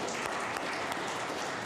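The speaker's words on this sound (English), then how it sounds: "We can clap about that too." Steady applause from a congregation at a Unitarian Universalist service, a dense continuous wash of clapping at moderate volume, filling the whole short stretch without a break.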